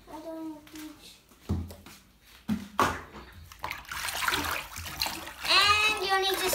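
A hand stirs Glibbi bath product through tub water with sloshing and swishing that builds toward the end, while a child and an adult talk over it.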